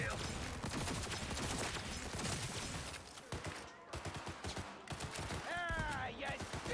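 Shotgun blasts and rapid gunfire fill a GTA roleplay firefight, loud and continuous with brief gaps, mixed under excited talk and game sounds.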